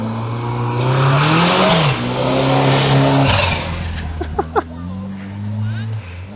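A turbocharged car accelerates hard at a retro car gathering, a loud, close engine roar rising in pitch through gears with a sharp whoosh, while a commentator talks over it.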